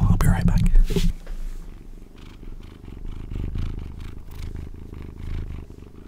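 A two-month-old kitten purrs close up with a steady low rumbling drone, joined by rustling and scraping as it moves around, with whispered speech at the start.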